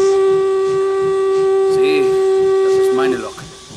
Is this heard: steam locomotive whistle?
yes